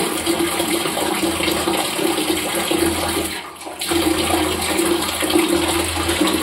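Water runs from the tap of an electric geyser in a steady, close rush that briefly dips and thins around the middle before flowing on just as strongly.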